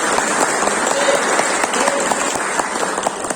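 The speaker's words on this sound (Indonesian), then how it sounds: "Aplaus sama Ibu." Steady applause from an audience at a district government meeting with market traders in Pekalongan, Indonesia, a dense unbroken patter of many hands clapping at moderate distance.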